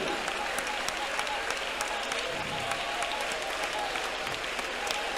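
A church congregation claps together during worship at an IPC prayer centre service, a dense, steady wash of many hands beating continuously with no break.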